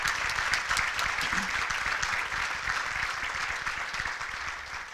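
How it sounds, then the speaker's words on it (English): Audience applause at a village state-of-the-year address, dense steady clapping from a large crowd filling the whole stretch at even loudness. "Let's give each other a round of applause on that one."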